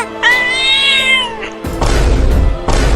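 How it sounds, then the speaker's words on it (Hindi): A cartoon cat lets out a long, wavering, close meow, then breaks into a loud, rough hissing snarl in two bursts. "ये बिल्ली अपनी दांतें दिखा रही है हमें काटने के लिए"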